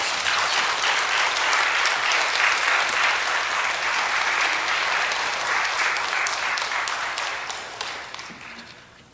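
Applause from a church congregation during a service, a dense, bright wash of clapping at moderate volume that holds steady for several seconds and then tapers off toward the end.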